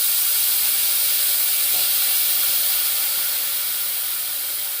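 Potato pieces hit hot oil in a pan with soft, mashed brinjal, giving a steady, close hissing sizzle that holds level throughout and eases slightly toward the end, with no talking.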